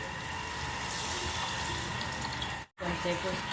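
Tamarind juice poured into a curry pot of dried prawns and cucumber, a steady close watery splashing and gushing stream that briefly cuts out near the end before resuming.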